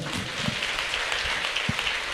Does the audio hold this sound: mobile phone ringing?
no